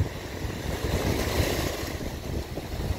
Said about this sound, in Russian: Море прям разбушевалось, аж распенилось такое все.